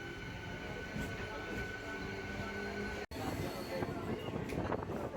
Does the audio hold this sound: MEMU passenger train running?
yes